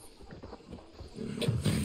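Horse hooves clip-clop in Far Cry 6 on PS5, an uneven run of soft thuds that builds louder toward the end as the animal picks up pace, with no talking.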